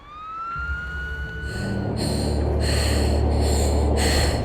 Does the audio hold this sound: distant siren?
yes